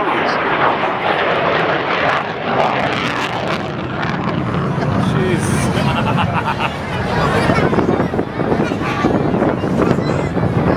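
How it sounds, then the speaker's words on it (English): A Saab 37 Viggen jet with a single Volvo RMA turbofan engine performs at an airshow, making a loud, continuous roaring rumble that fills the whole stretch, with crowd noise and wind buffeting underneath. "That sound you're hearing is a single Volvo RMA turbofan engine."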